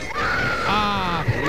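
A woman screams in a drawn-out, wavering cry lasting over a second, loud and close, with a voice breaking in near the end.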